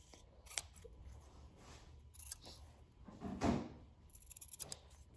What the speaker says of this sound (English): So I'm going to gently cut this LA Knight thing.